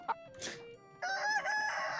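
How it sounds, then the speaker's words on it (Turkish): A rooster crows loudly in a video game, with clucking chickens and a few synthetic beeps in the background, close and clear. "Arkada tavuklar var, yumurtalar var."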